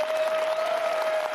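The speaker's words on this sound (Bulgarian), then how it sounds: "Аплодисменти, дами и господа, за най-търсените коментатори в ефира." A TV studio audience claps briefly during a reality show broadcast, a short burst of crowd applause mixed with a steady sustained musical tone underneath.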